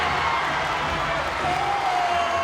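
A high school basketball crowd at a Warren versus Waukegan game roars steadily after a basket, a dense wash of cheering and shouting that fills the gym with no break.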